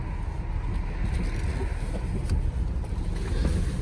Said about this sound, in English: it doesn't really stop the water from spraying up and actually kind of getting into the vehicle